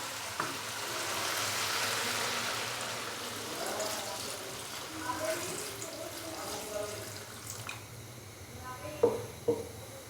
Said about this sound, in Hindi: तो अभी हम इसके अंदर डालेंगे पानी।